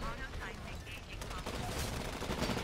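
Gunfire in the video game Titanfall comes in rapid automatic bursts, dense and loud, mixed with the game's explosions and effects throughout.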